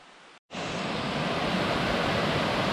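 Princess Falls, a large waterfall in Big South Fork, roars as a loud, steady broadband rush that cuts in abruptly after a short quiet gap and holds constant to the end.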